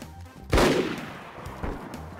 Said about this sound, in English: Shots north as well.